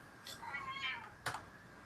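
A cat gives a short meow, then a second sharper cry, fairly close and alone against quiet room tone.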